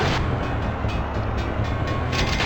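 A train in the Hot Wheels Mechanix video game, a continuous heavy rumbling roar with rhythmic clacking and rattling, loud and close, no voices.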